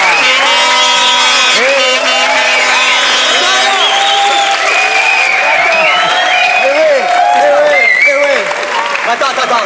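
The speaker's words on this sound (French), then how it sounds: "qu'un tonnerre d'applaudissements se fasse entendre jusqu'au rocher de Monaco" Loud, sustained applause from a French television game-show studio audience fills the whole stretch, dense clapping with a few cheers and whoops mixed in, and musical tones running beneath it.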